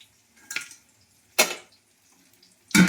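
Papad (poppadom) fries in a pan. Three brief crackling sizzles, near and distinct, are separated by near silence.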